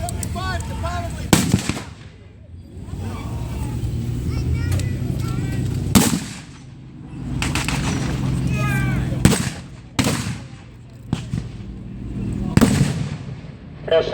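Loud gun blasts from a World War II battle re-creation with an anti-tank gun firing alongside other weapons, about six sharp booms spaced a second or two apart over a rumbling engine background, with people talking faintly between shots.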